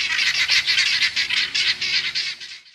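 A crowd of birds shrieks in dense, harsh, overlapping calls that pulse in quick repeated bursts, loud and close, before trailing off at the end.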